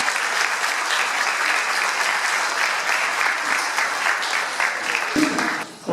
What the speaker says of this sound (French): je voudrais d'emblée que vous applaudissiez la chorale Mélodie